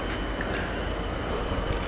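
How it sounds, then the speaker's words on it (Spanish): Bees buzz steadily as a continuous high drone near an old cemetery, moderately loud and alone, with faint background noise. "Son abejas."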